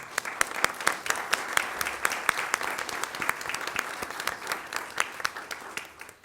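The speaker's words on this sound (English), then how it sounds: "Let's give them a round of applause." An audience applauds award-winning cadets at a recognition ceremony: steady, moderately loud clapping with distinct sharp hand claps throughout, continuing evenly for several seconds.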